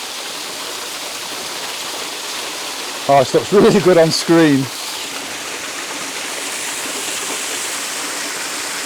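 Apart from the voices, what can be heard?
waterfall cascading over rock ledge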